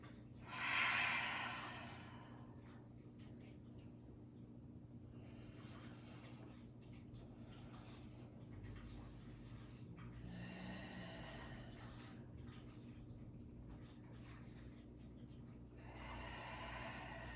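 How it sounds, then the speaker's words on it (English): Slow, deep breaths in a mindful yoga flow, several long audible inhales and exhales spaced a few seconds apart, soft and close over a quiet low hum, with one stronger breath near the start. "Make sure you can feel your breath. You can hear your breath."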